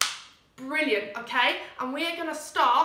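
A Year 3 and 4 music class finishes a 'snap, crackle, pop' warm-up with one sharp group clap that rings out briefly and fades before a teacher starts talking.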